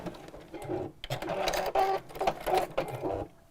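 A sewing machine stitches down a bag lining in short bursts of rapid mechanical whirring, close and fairly loud, with brief pauses between runs.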